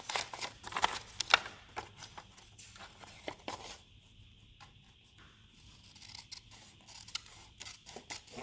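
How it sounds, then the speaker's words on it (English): Scissors snip through paper in a run of sharp, close crisp cuts at the start, then quieter handling, rustling and a few more scattered snips, with no talking. "Scissors."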